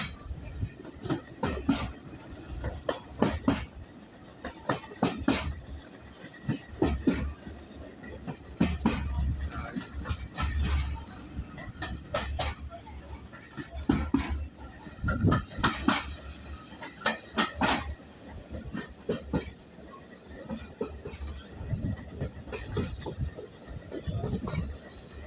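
Rhythmic rumble and clatter from inside a carriage pulled by the steam engine Titan on the heritage line from Corfe Castle to Swanage, with repeated wheel clicks and metallic knocks over a steady low drone throughout.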